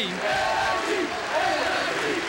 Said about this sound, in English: Hear the crowd there.